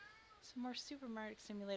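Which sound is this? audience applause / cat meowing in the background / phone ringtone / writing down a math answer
cat meowing in the background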